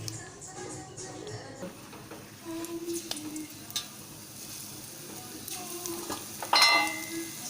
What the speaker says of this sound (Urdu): ڈیپ فرائی کریے.